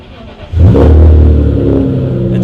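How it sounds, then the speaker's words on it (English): BMW E46 M3 engine with an aftermarket exhaust starting up: a brief crank, then a loud catch and rev flaring into a deep, steady idle burble, very close and alone. "I love the startup."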